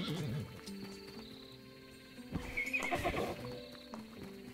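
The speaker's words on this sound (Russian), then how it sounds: "Там лошадь приехала" A horse arriving in the video game Tavern Manager Simulator, whinnying loudly with clip-clopping hooves over background music, a voice talking faintly nearby.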